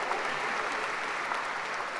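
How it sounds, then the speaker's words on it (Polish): Dense, continuous applause from a concert audience for a parish church choir, a steady wash of many hands clapping together with no voices heard over it. "wielkie, wielkie brawa dla naszego chóru"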